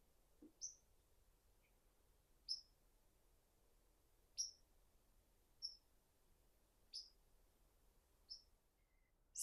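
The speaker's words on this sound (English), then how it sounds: "You can hear the birds singing this morning." Small birds call in an early-morning Newfoundland garden, a series of sharp, brief high chirps spaced a second or two apart, faint and fairly distant over a quiet background.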